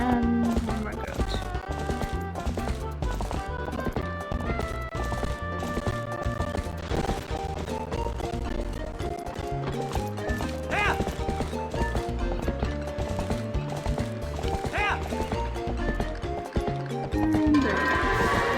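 Goats being herded in the video game Twilight Princess HD make a fast, continuous patter of hooves as they run. The hoofbeats sit under dense game music that plays throughout.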